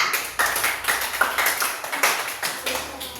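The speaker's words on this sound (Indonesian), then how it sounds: "tepuk tangan buat si Ada" A classroom of students claps for a classmate called up to present her experiment, a brisk, uneven patter of hand claps close by with no talking.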